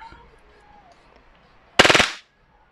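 A WE Glock 18c airsoft pistol fires one short full-auto burst of rapid, sharp cracking shots, loud and close, after a quiet stretch with faint background sound.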